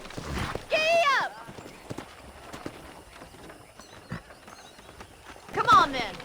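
Horse hooves clip-clopping in the Western video game Red Dead Redemption Remastered, faint rhythmic hoofbeats under the game ambience, with a horse whinnying at the start and again near the end.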